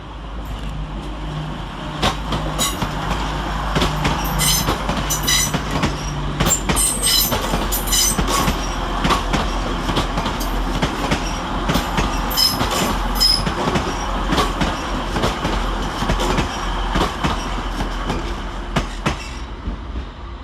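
Class 185 TransPennine Express units 185 147 and 185 104 pull into Manchester Piccadilly on the 0858 service from Manchester Airport, a steady close rumble of wheels and engines with repeated squeals and clicks over the rails, continuous throughout.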